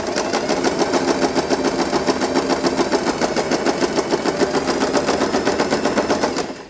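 A sewing machine stitches fabric for a butterfly bow, a steady loud rapid rattle that runs continuously at close range before stopping at the end.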